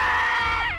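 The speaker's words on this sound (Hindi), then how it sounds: "पर ये जब चीखती है ना" A woman screams loudly and continuously in a Hindi TV comedy scene, one sustained high shriek with wavering pitch that trails off and bends downward at the end.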